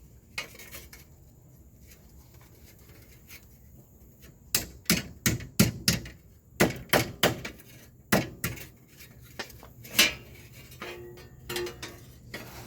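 Sharp metallic hammer strikes land close and loud on a 2012 Infiniti M37x AWD, knocking the front hub bearing free of its mount. The blows come in a quick series of about a dozen with a few scattered lighter knocks and no talking.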